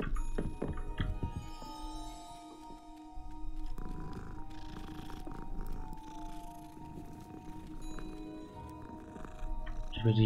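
A cat being petted in Hogwarts Legacy, with a soft continuous purr running low and close throughout, accompanied by a few muffled thumps near the start.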